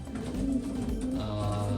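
Breeding pigeons cooing in a low, throaty, sustained murmur, close by and fairly continuous over a soft background, with no talking.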